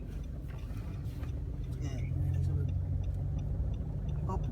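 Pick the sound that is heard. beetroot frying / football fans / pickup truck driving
pickup truck driving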